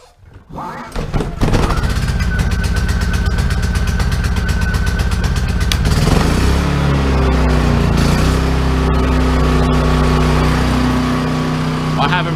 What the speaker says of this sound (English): One yank on the pull handle, boom, off she goes.